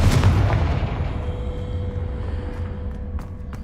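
A Confringo blasting spell explodes in the Hogwarts Legacy video game, a loud booming blast that rolls off into a fading rumble.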